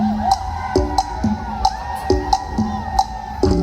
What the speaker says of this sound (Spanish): que se escuche el grito de los borrachos